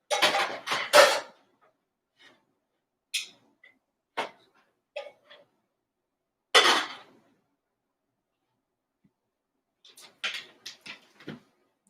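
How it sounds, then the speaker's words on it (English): A spoon knocks and scrapes in a pot of cooking black beans, bursts of clanking spread over several seconds with quiet gaps between them, close and fairly loud, with no talking. "Give me one moment, I gotta stir my beans."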